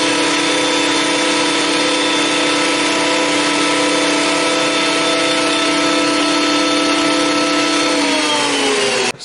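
A thickness planer feeds wood through on a hardboard sled with a spacer, a loud steady whining drone held for several seconds, close, then cutting off abruptly.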